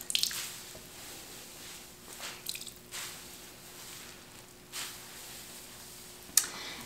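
Wet knitting squeezed by hand to wring out water, with soft squishing and a few drips and splats over a quiet, steady background.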